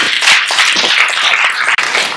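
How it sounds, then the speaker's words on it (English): Pageant bootcamp audience clapping, dense and loud, close and continuous for a couple of seconds with sharp individual hand claps standing out. "Give yourself a round of applause."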